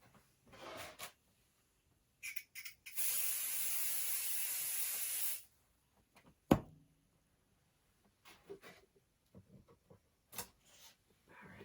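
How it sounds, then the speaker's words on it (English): Pixie spray hisses from a can in one steady burst of about two and a half seconds, preceded by a few short puffs and followed by quiet crafting clicks and handling sounds. "I am going to put a little bit of Pixie spray on this one off camera"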